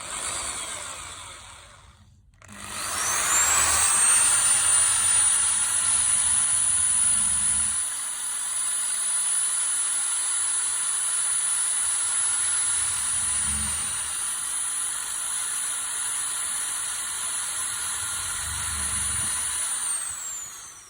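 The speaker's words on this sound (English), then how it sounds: "this is my new chop saw" An Evolution chop saw motor whines up to full speed after a brief pause, holds a loud, steady high-pitched run for about seventeen seconds, then winds down near the end, close to the microphone with no talking.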